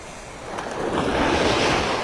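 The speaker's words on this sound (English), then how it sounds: "Right where the waves are breaking" Ocean waves break on Vanderbilt Beach in North Naples, Florida, a steady close wash of surf that swells louder as a wave crashes, with some wind noise and no voices.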